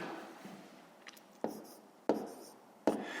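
Pen or chalk marks written while working a fifth-grade long division problem: faint scratching with three sharper taps of writing strokes spaced about a second apart in a quiet room.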